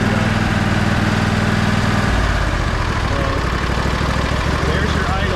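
A 1999 Craftsman lawn tractor engine, after repairs, idles at low throttle without choke, a steady close low chugging drone that drops slightly in pitch partway through.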